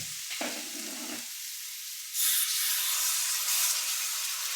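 Vegetables frying in a pan hiss and sizzle, then a louder, broad steamy rush bursts up as a little water hits the hot pan and carries on steadily.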